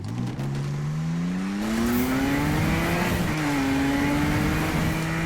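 A 2016 BMW M2 in Need for Speed 2015 slides sideways with its engine revving loud and close, the pitch climbing steadily then holding under a constant rush of tire and road noise, with no talking.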